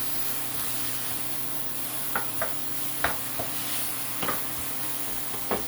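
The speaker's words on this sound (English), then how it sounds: "come back over here and stir this before it burns onto the pan" Oyakodon ingredients stirred in a pan, a quiet even sizzle under a steady background hum, with a few light scraping taps from the spatula spread across the stretch.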